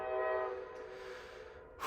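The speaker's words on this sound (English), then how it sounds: "Another fucking train?" A passing train's horn sounds loud and sustained, then fades, followed by a brief burst of noise at the end; no talk is heard.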